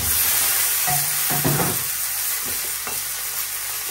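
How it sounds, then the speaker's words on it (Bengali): Raw green banana and potato pieces fry in oil in a pan with bay leaf and cumin seeds, a steady close sizzle broken by a few clattering stirs. "এই যে এখন আলুটা ভেজে নিচ্ছি"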